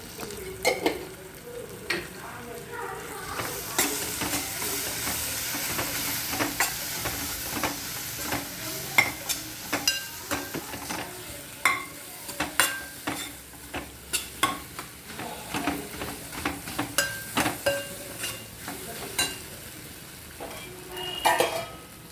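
Spices and coriander powder sauté in a hot pan with a soft continuous sizzle, while a spatula scrapes and stirs in irregular close strokes that grow sharper and more frequent toward the end.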